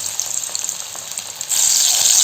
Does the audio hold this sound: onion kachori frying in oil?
yes